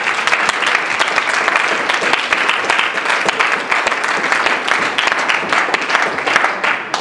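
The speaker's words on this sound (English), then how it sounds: "So let's give you guys a round of applause." A student meeting audience gives a round of applause for the volleyball tournament teams, a loud, dense burst of clapping from many hands that holds steady throughout, close and uninterrupted by speech.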